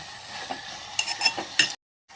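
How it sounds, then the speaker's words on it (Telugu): Tomatoes cooking in oil in a pan for a cauliflower makhani curry, a soft low sizzle with a few sharp stirring clinks near the end before the sound cuts out briefly. "అవి బాగా ఆయిల్లో బాగా మగ్గాలన్నమాట"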